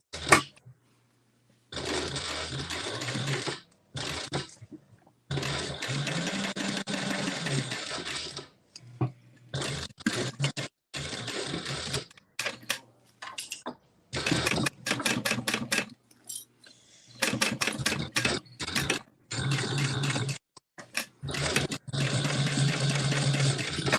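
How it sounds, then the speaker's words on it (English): A sewing machine top stitches along the bottom edge of fabric, running in close, steady bursts of rapid stitching separated by short pauses, with no talking. "And then top stitching the bottom basically."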